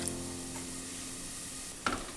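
Vermicelli payasam with coconut milk heating in a pan, a faint even simmering hiss with one short spoon scrape and clink toward the end, nearby and without talk.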